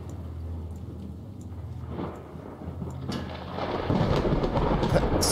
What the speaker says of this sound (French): Cet éclair a frappé bien trop près de moi.